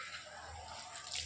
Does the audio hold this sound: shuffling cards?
no